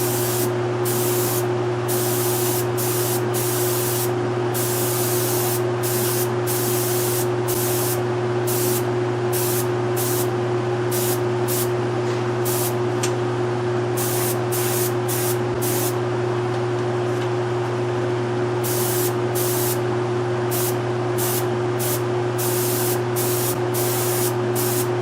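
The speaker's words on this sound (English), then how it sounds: "now I'm just gonna give it a quick airbrushing to try to make it look a little bit older" An airbrush sprays finish onto the binding of a KayKraft archtop guitar, a continuous fine hiss chopped into short pulses by repeated trigger taps, over a steady low compressor hum.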